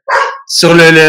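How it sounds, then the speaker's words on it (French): A dog barks loudly and close by, one sharp bark and then a longer harmonic bark-whine right after, with speech overlapping. "ta gueule, toi, c'est mon chien."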